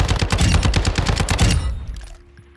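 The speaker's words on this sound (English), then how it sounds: "Take it into the firing range, you're gonna see this gun has a slower fire rate than the base ISO" A slow-firing rifle in a Modern Warfare II firing range fires a rapid string of loud, sharp shots, about a dozen in quick rhythm, then stops and the echo fades.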